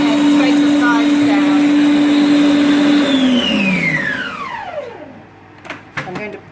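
A ThermoCook Pro M 2.0 food processor blends hummus with a loud steady whirring hum, then spins down in a long falling whine to a stop, followed by a few faint clicks and knocks.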